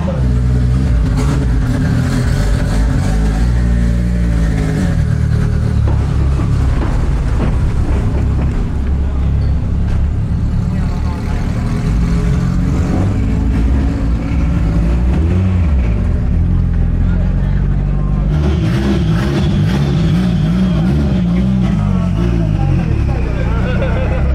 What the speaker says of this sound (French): Ils sont partis pour leur tour de chauffe et comme les autres ils vont faire un départ lancé